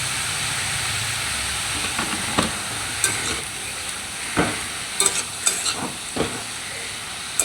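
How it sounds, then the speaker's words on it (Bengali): Pointed gourd fries in a pan with turmeric and chili powder for Bengali mustard potol. A steady sizzle runs underneath while a spatula stirs and scrapes in several sharp, irregular clatters near the end. "এই সর্ষে পটলটা একটু ভাজা ভাজা মাখো মাখো টাইপের হবে।"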